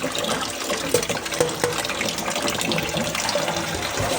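Running water splashes steadily and fairly loudly from a tap as vegetables are rinsed, with intermittent rinsing and sloshing noises close by.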